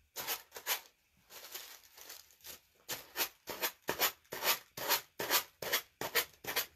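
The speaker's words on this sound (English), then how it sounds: "sand it right off the edge" Repeated rhythmic scraping strokes of a sanding block rubbing along a wooden heart's edge, about a dozen quick back-and-forth passes, close and fairly loud with no talking.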